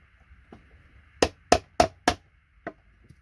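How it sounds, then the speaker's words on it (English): A chisel struck with a hammer to break ceramic oscillator scrap gives four sharp, evenly spaced close-up knocks with a clinking edge, followed by one softer tap, over a quiet background. "so you want to make sure your chisel's straight when you're hammering it"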